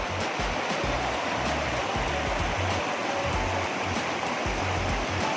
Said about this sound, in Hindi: इस तरह देखिए और पानी का आवाज़ देखिए।